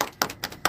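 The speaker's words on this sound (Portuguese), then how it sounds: "Palmas." Three sharp, separate hand claps land a steady beat apart, close and fairly quiet against a still room.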